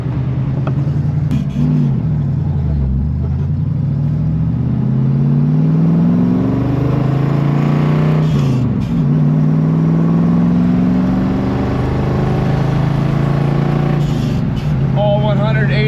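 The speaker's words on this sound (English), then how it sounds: "All right, we're in the Mustang going for a ride." A 1968 Mustang with 180 horsepower drives on the road, with a loud interior engine drone rising and falling through gear changes while people talk over it.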